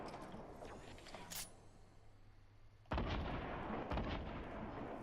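Gunfire in a multiplayer shooter video game, a couple of sharp bursts of shots, one brief crack early and a louder burst near the middle, heard alone without talk.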